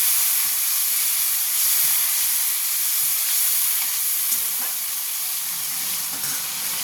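Ginger and green chillies fry in a hot pan as a little water goes in, giving a loud, steady, close sizzle and hiss that carries on for the whole stretch with no talk.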